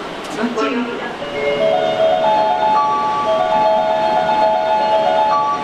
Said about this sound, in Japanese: 寝台特急日本海青森行きが入ります。